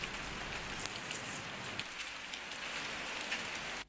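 Heavy, driving rain pours down steadily and loudly in a dense, continuous hiss of drops hitting surfaces, with no voices over it.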